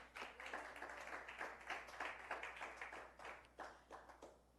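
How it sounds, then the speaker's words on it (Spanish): Congregation clapping during a church sermon, a faint, irregular patter of hand claps in loose bursts over a low background hum. "¿Cuántos aplauden al Señor?"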